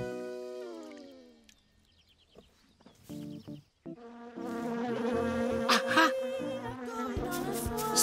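Cartoon bees buzz in a bright, busy swarm that swells in after a stretch of melodic tones and scattered clucks, then holds loud and steady to the end.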